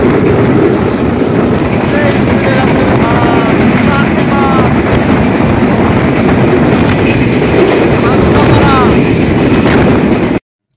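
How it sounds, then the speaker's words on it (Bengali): The intercity Rupsha Express rushes along at speed, a loud, dense roar of wheels and rails with rapid clatter and squealing tones, heard from on board and unbroken until an abrupt cut at the end. "বিমানের গতিতে ছুটছে রূপসা এক্সপ্রেস"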